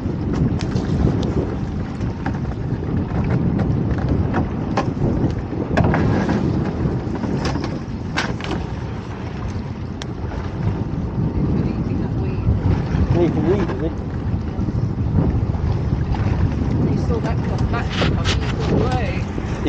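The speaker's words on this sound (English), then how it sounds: "You might hear us getting a bit windy as well" Steady, heavy wind buffeting the microphone outdoors on a dinghy out fishing, a continuous low rumble with gusts, with faint voices underneath.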